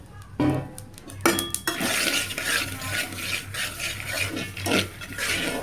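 Chickpeas and nuts being stirred and roasted in a pan over low heat, with a spoon scraping and clinking against the metal. A soft sizzle runs underneath, with brief clatters and a quieter pause.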